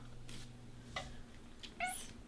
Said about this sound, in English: I'm sorry my cat is crying.